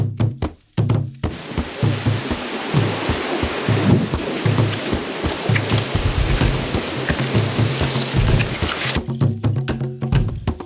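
Wind and waves pound around a sailboat in a storm near the Bahamas, with a continuous loud rushing roar, heavy dull thumps of water against the hull and gusts rising and falling throughout.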